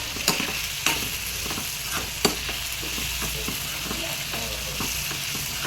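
Greens for paruppu keerai sauté in a pan, a continuous dense sizzle with frequent scraping stirs and a few louder clatters, with no talk.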